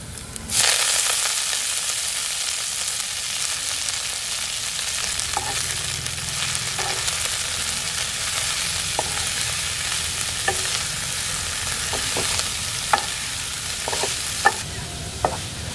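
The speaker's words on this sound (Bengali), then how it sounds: "এখন ভাজার জন্য খাকরোল পাতাগুলো দিয়ে দেব।" Kharkol leaves frying in hot mustard oil with black cumin, dried and green chillies and whole garlic, a loud continuous sizzle with scattered sharp clicks of stirring toward the end.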